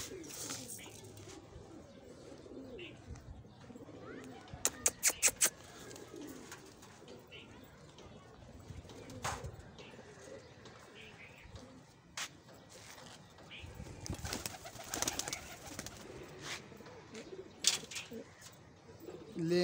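Pigeons coo softly inside a trap in a quiet outdoor setting, with low murmuring calls and scattered sharp clicks and rustles, and faint voices in the background.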